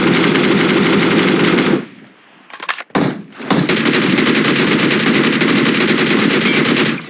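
Rapid automatic gunfire from the BGMI / PUBG mobile battle royale game, loud and sustained bursts that cut out briefly in the middle before resuming in a long continuous stream, with no talking.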